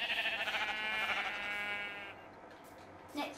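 Sheep bleating in a video game, a long, loud wavering bleat that fades out over a couple of seconds, followed by a short rising cry near the end.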